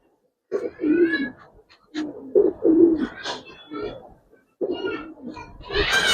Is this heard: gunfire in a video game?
no